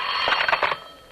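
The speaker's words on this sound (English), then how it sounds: "Again the phone. This time, it doesn't stop." A telephone in a radio drama rings insistently in one short shrill burst, loud and close, with no voices over it.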